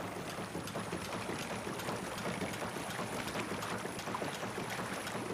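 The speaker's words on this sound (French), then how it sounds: "le son du moteur il est pas chiant" A running engine hums steadily at moderate level throughout, a continuous even drone with faint mechanical ticking and no talk over it.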